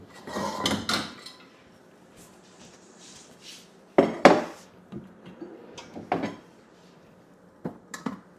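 Pans and kitchen utensils clatter and knock as drawers are opened and closed, sharp bursts of metal and wood separated by quiet pauses, close and loud.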